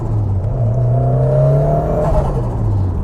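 Ford Sierra RS Cosworth, a stage 3 rear-wheel-drive car, revving hard with a loud, sustained engine note that climbs and holds, close by with no talk.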